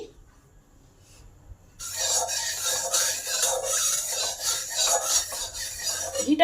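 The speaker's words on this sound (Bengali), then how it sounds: "এবার এই চিড়েটাকে ভালো করে ভেজে নেব" Flattened rice frying in hot ghee in a wok, with a steady, loud rasping sizzle and stirring scrape that starts abruptly after a quiet opening and continues to the end.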